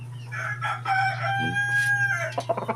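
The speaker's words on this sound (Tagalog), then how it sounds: "Nadi tayo unusual nga manok dire." A rooster crows nearby, a long harmonic cock-a-doodle-doo followed by a few short clucks, over a steady low hum.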